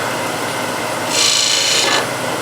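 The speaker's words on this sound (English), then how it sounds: "Nice and gently, since I know it doesn't like to be scraped very much. So a small spindle gouge again" A small spindle gouge cuts gently across wood spinning on a lathe, giving a smooth, steady rasping hiss that swells for about a second and then fades back into the lathe's background hum.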